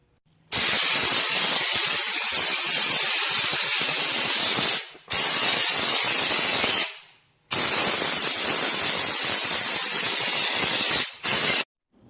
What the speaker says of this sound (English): And don't forget to spray the rockers.